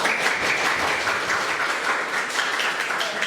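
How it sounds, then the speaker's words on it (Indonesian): A classroom group bursts into steady, fairly loud clapping that carries on evenly throughout. "Tepuk tangan untuk kita semua."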